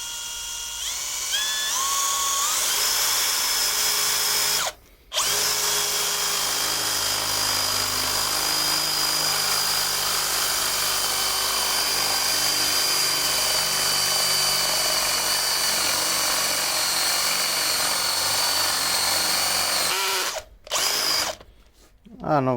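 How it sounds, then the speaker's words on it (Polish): A cordless drill driver, left in screwdriving mode rather than drill mode while drilling holes, whirs steadily at close range, running almost continuously with two brief stops and a few short bursts near the end. "I za pomocą wiertarki, znaczy wkrętarki będziemy robić otwory."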